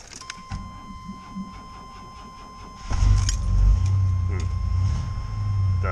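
A 1994 GMC Safari SLX van starts on a cold day, beginning with a jangle of keys and a faint chime, then the engine catches and settles into a loud, steady low idle.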